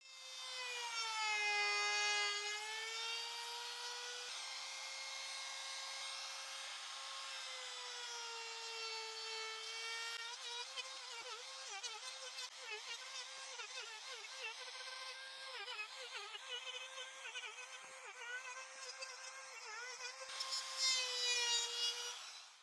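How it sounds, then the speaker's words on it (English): A router fitted with a 30mm bit rounds over the edges of a wooden piece, giving a steady, loud, high-pitched whine that shifts slightly in pitch as it cuts, running continuously with no talking. "With a router and a 30mm bit, I will round all the edges of the item,"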